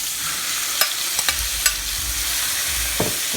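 Two pounds of shrimp sizzle steadily in a pan of browned garlic, with a few sharp clinks and scrapes of a utensil stirring them against the pan.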